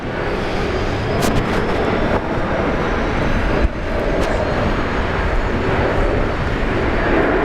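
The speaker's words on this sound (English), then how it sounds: "we've got the landing lights there on the aircraft on finals" Jet airliner on final approach to land at Brisbane Airport, a loud continuous engine roar and rumble holding steady, with a brief sharper burst midway and no voices.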